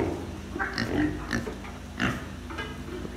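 Pigs grunting and squealing close by, several short bursts spread across a few seconds over a steady low farmyard hum.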